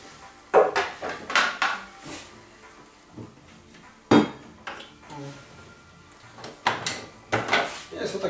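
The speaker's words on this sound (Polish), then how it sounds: "W boku jest moduł zaparzania, on jest wyciągany." Saeco Royal Professional espresso machine having its brewing unit pulled out of the side, giving several sharp plastic clunks and clacks between quieter scraping, with a person talking.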